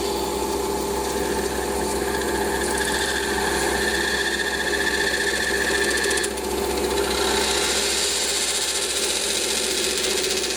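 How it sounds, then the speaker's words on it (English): A Noga deburring tool is scraping a burr off a small metal washer on a lathe, making a close, steady rasping and ticking scrape that runs continuously with a brief shift in tone partway through. "Got a little burr on there, which I need to take off. So, Noga."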